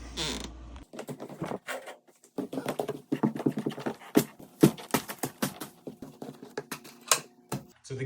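A squeaky wooden floor over its joists creaking under foot, with a series of irregular squeaks, knocks and creaks that come close and fairly loud, alone with no talking.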